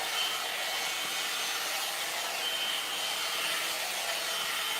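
A curling blow dryer running continuously with a steady, airy whooshing hiss, close and even in level, with no talk.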